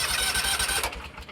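Hustler Raptor X 50-inch zero turn mower engine cranking and starting, with a close, rapid mechanical chugging pulse that fades out toward the end.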